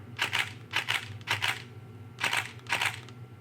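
Five crisp shutter clicks from a Nikon D50 DSLR camera, close and distinct, arriving in a loose rhythm with a short pause midway against a faint hum.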